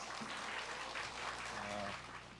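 A church congregation at a Korean mothers' prayer meeting applauds steadily to welcome their senior pastor, a dense, even wash of clapping that fills the hall for a couple of seconds before easing slightly.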